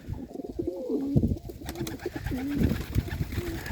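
Many young pigeons, including rock pigeons and a tiger-patterned bird, coo repeatedly in a loft, with overlapping low throaty calls that rise and fall close by and continue throughout.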